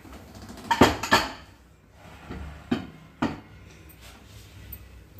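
Small serving bowls are handled and set down in a kitchen, giving a few sharp clinks and knocks clustered early, then two more separate taps, with quiet pauses between.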